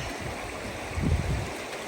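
Cold Alaskan river water rushes steadily as people wade across it barefoot, a broad continuous flow with a brief fuller splashing swell in the middle, and no voices over it.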